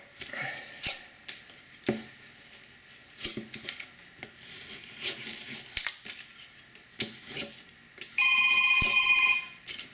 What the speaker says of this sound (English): I forgot to put my phone on silent before I started recording this.